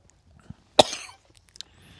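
A single sharp, close cough bursts out and trails off briefly, followed by small clicks and faint rustle in an otherwise quiet room.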